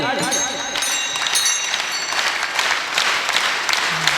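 A crowd claps along at a devotional kirtan, producing a dense, continuous patter of applause in a large gathering, with voices calling over it.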